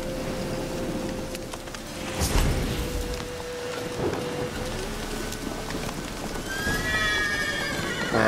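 A horse whinnies near the end over steady patter of rain, with occasional hoof clops and a faint sustained tone in the background, in the video game The Witcher 3.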